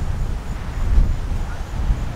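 Wind gusting across an outdoor disc golf course, a steady low rumbling roar buffeting the microphone for the whole stretch, with slight swells and no voices.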